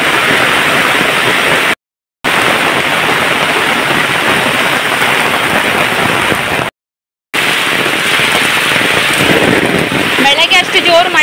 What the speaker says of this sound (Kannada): ಈಗ ಜೋರು ಮಳೆ ಬರಲಿಕ್ಕೆ ಸ್ಟಾರ್ಟ್ ಆದ.